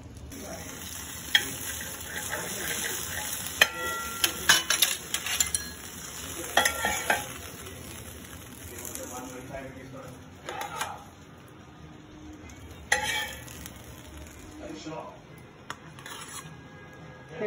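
An aloo tikki frankie fries in a pan, turned to cook on both sides, with a steady hiss broken by scrapes and clatters of a utensil; no one talks.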